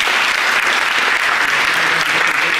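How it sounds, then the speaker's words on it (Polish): Steady, loud applause from the audience at the Miss Skarżyska-Kamienna 2019 beauty pageant gala, a continuous wash of many hands clapping with no breaks. "znowu brawa!"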